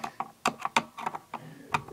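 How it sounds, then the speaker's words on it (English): Screws being loosened on the brush module of a Roomba 650 robot vacuum, heard as close, quiet clicks and ratcheting ticks in an uneven rhythm with short gaps between turns. "there's four screws that loosen up, that we can loosen up to remove the"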